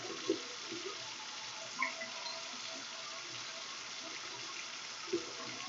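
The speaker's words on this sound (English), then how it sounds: "Then I'm going to wash my palms." Hands being washed with soap under a running tap, a steady soft wash of water with a few brief splashes and slips, fairly quiet and with no talking.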